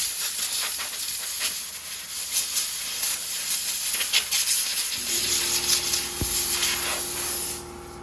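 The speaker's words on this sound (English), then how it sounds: "Sorry about the air compressor, but I kind of need it." An air compressor runs in a workshop near a vintage Cunningham walk-behind tractor, giving a steady loud hiss with a low motor hum that joins partway through before the sound drops off at the end.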